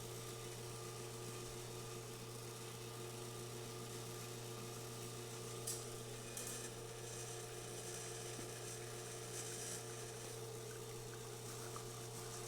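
A La Marzocco GS3 espresso machine runs while brewing test coffee, giving a steady, faint pump hum with a constant low drone and slight mechanical ticking, without speech.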